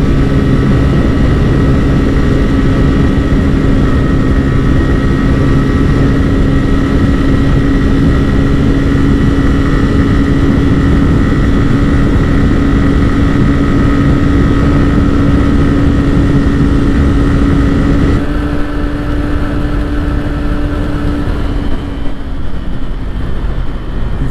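A steady, loud engine drone with a constant high pitch from a 125cc motorcycle at 103 in a top-end drag race between a TVS Raider 125 and a Glamour Xtec 125, holding level before shifting and easing off near the end.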